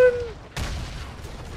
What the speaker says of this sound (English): she has a grenade launcher.